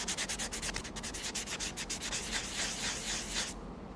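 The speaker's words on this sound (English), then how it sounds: "This is end grain, and you've already hit most of it with sandpaper." Pecan end grain being sanded with 80 grit sandpaper, a steady, close scratchy rubbing with rhythmic back-and-forth strokes that runs continuously, then stops abruptly near the end.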